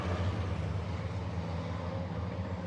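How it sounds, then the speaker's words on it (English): Racing trucks, including a Freightliner, battling closely on a circuit, a dense continuous roar of heavy engines with droning low harmonics, loud and steady throughout; distinct tyre screeching is hard to pick out. "You can hear tyres screeching and trucks sliding"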